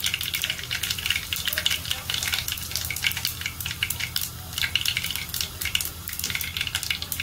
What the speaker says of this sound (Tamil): வெந்தயமும் கொஞ்சம் பொரியட்டும் வெந்தயம் பொரிஞ்சிட்டது